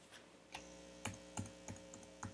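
Key presses on a computer keyboard while entering five dashes and pressing enter, a handful of separate clicks spaced irregularly, faint and close, with no one talking.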